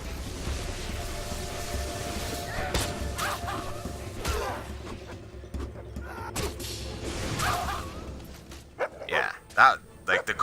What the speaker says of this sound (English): That guy just kicked my dog.